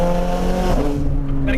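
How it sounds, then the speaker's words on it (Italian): A Ferrari 430 Scuderia engine roars up close, its steady harmonic note dropping sharply at a quick gear shift midway and then pulling on loudly. "Le cambiate avvengono in appena 60 millisecondi"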